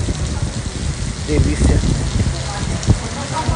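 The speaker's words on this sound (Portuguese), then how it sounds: "do nada, olha só, olha a chuva" Rain falls steadily on a farm after sudden sunshine, a close dense patter with scattered louder drops, while someone speaks briefly over it.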